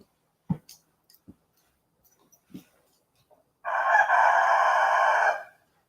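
A rooster crows once in a long, loud call after a few scattered clicks and knocks, with no talking over it.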